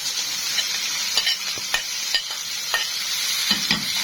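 Small chopped tomatoes and potato sizzling in a frying pan, a steady close hiss broken by repeated light scrapes and clicks of stirring against the pan.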